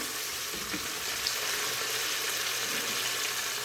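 Mutton and turnip pieces fry in hot oil in a pot for shaljam gosht, a steady, close sizzle with no speech, holding at an even level throughout.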